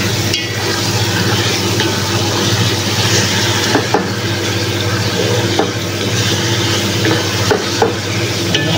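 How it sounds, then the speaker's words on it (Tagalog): Carrots and vegetables sauté in a hot pan for bucary, with a steady loud sizzle and scraping stirring strokes recurring throughout. "Halu-haluin lang natin."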